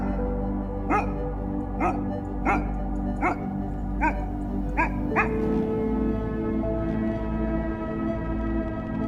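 A wolf pack gives a run of sharp, evenly spaced yips and barks over a sustained chorus of layered howls, which continue after the yipping stops.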